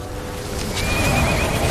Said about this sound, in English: Sounds like somebody has like a horse or somewhere around here.